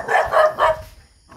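Dogs barking near a home on a Filipino morning outing, a burst of three loud barks in quick succession followed by quieter background noise.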